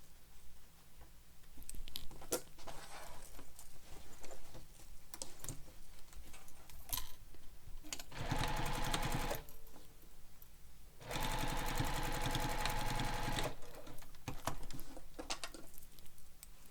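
Sewing machine stitching a fabric bag with backstitches at start and stop, bursts of rapid mechanical whirring separated by quieter pauses and light clicks, close and fairly loud.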